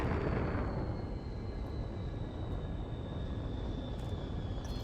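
Spaceship thrusters roar during a planetary descent in the Elite Dangerous video game, a steady broad rushing drone with a thin high whine above it, held at moderate level with no talk.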